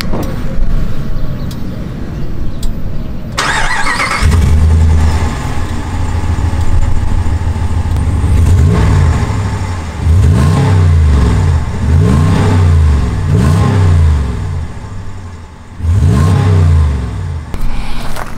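A 2019 Ram Rebel's 5.7 liter Hemi V8 cranks and fires up by remote start, then idles with a deep rumble and several rhythmic revs, loud and close.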